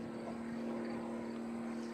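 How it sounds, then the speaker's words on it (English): An aerobatic airplane propeller droning at steady pitch while the prop governor holds RPM through a vertical up line, a distant continuous hum with slight surging. "You'll hear the prop surge there as that prop governor's keeping that propeller RPM exactly where it needs to be"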